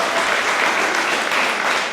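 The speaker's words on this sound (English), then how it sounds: "round of applause" Wedding guests applaud during the speeches, a full, even wash of many hands clapping at close range for a couple of seconds, no speech on top.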